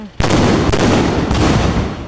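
Firecrackers are set off at a temple in a rural Isan village: a sudden loud crack followed by a rapid, dense string of close bangs, with further sharp bursts layered in as the volley continues.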